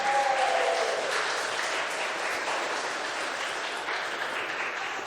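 An audience applauds at a youth oratorical contest, a sustained, even roar of clapping from a crowd heard on its own, fairly loud throughout and easing slightly toward the end.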